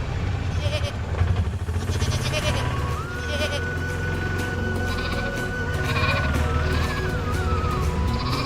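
Goats bleating loudly and repeatedly throughout, overlapping one another, with a low rumbling background and a steady sustained tone running beneath.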